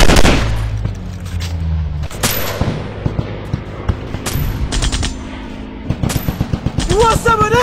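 Rapid bursts of gunfire and single shots ring out in an Android first-person shooter mobile game, loud and close, with automatic volleys, heavy booms and electronic game effects layered together.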